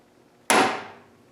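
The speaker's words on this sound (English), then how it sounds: "I picked up a Cook brand Babbitt hammer at the flea market for 10 bucks, brand new." Cook brand Babbitt hammer, heavy and lead-like, strikes a Colchester lathe tailstock nut once. The blow is close and sharp, its ring decays over about a second with nothing else heard.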